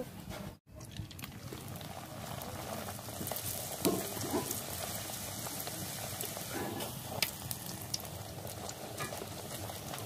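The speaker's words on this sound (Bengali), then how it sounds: "ভালো করে ভেজে নেব এবার তুলে নেব" Dal puri made with chana dal fries in hot oil, a steady bubbling sizzle that stays even and close throughout with only faint background noise.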